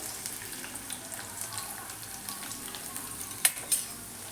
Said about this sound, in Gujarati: અને બધું સારી રીતે સાતરી લઈશું